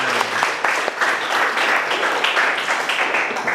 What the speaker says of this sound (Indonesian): Baik anak-anak, mari kita tepuk tangan untuk kita semua.